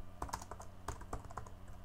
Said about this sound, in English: I can just start typing code.